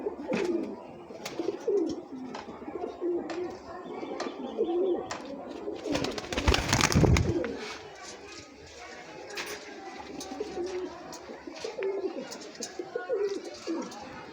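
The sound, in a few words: golden pigeon cooing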